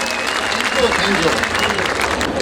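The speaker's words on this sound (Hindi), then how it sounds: "एक बार जोरदार तालियां बजाइए प्रदीप चौबे के लिए" Loud, sustained audience applause at a kavi sammelan welcoming poet Pradeep Chaubey from Gwalior, a dense wash of clapping with a voice speaking over it.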